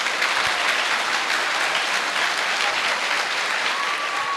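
A school campus audience at a Vinayaka Chavithi talk applauds loudly, a dense sustained wash of clapping from many hands filling the whole stretch.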